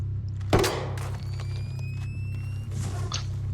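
An intel grenade thrown in the video game Ghost Recon Breakpoint strikes a tunnel wall with one sharp, close thunk, followed by a low continuous hum and faint later clicks.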